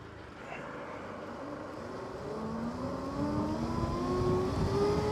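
Ola Roadster X+ electric motorcycle pulling away from a standstill in sports mode, its motor whine rising steadily in pitch as it gains speed, fairly faint under road and wind noise.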